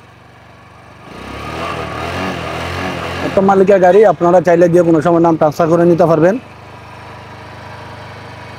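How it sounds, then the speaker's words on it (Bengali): A second-hand motorcycle with over 29,000 km and an untouched engine idles with a steady, low, even hum, running under a man's continuous close-up talk. "এই হচ্ছে আমাদের গাড়ির সাউন্ড, একদম স্মুথ সাউন্ড আছে"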